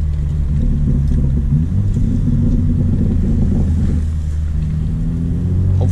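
A BMW G80 M3 with a Stage 1 tune pulls hard on a back road, its engine a loud, steady deep rumble from inside the car, rising slightly in pitch as it accelerates.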